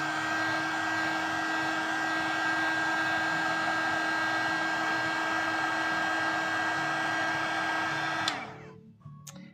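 A hair dryer blows steadily and loudly at close range while drying a watercolor card, holding a constant whirring hum before it is switched off and quickly winds down near the end.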